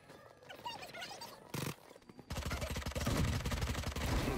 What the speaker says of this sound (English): Watch me shotgun these fuckers.